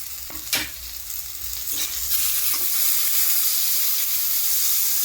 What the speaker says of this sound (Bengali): এবার আমি এর মধ্যে 1 টেবিল চামচের মতন আমি আদা রসুন বাটা অ্যাড করে দিলাম।